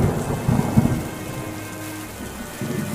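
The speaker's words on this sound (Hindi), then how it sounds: "एक रात आंधी के साथ साथ बहुत तेज बारिश होने" Thunder rumbles low and heavy through a steady wash of hard rain during a night storm with strong wind, the booms loud and close early on, then easing into pouring rain alone.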